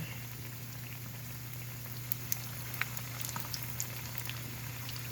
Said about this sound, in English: now I'm going to turn the fritters over, because you don't want them fried too much